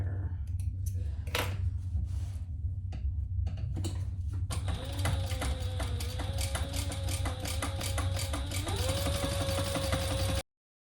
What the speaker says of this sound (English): I'm gonna put 2 rows of stitches